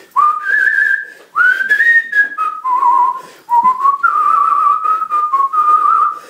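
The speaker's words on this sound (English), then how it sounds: "it's a bit like whistling. And I'm pretty good at whistling too." Someone whistles a simple melody of sustained, clear notes in several short phrases, close and loud, with brief pauses between them.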